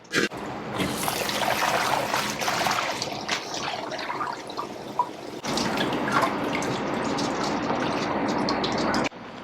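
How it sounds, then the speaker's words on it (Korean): Blanched spinach is rinsed under cold running tap water in a sink, a steady close splashing trickle with drips, briefly interrupted midway, with no talking. "이렇게 찬물에다 한번 헹궈 갖고 올게요."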